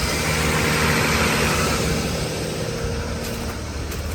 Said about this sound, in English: Let's get away from that noisy truck.